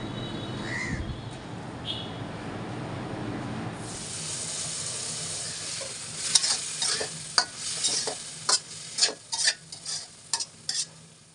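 Kochu loti (taro stolon) curry with a little broth added, stirred in a pan: a quiet start, then a bubbling sizzle with a run of sharp, rhythmic spoon scrapes and knocks, close by.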